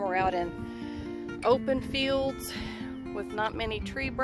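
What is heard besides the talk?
None of the usual background noises is heard.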